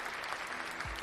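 Steady, dense clapping and applause from a group, continuous and fairly loud throughout, with a brief low thump near the end.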